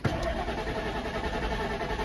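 A 1998 Ford Expedition's gas engine, just refueled after running out of gas, turns over and settles into a steady running hum, heard moderately close with no talk.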